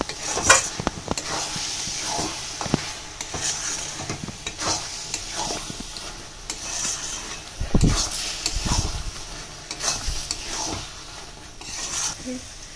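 Carrot halwa being stirred in ghee in a pan, a soft steady sizzle with scraping spoon strokes and a few louder thumps, no talking.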